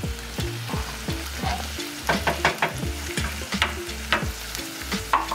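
Tomato paste dropped into a hot pan for rigatoni alla vodka, sizzling and frying with repeated scraping, stirring knocks against the pan, fairly loud and close.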